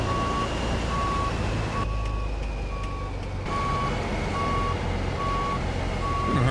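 Steady reversing beeps from a Peterbilt 352 cabover truck backing a trailer in American Truck Simulator, evenly spaced and continuous over a low engine drone.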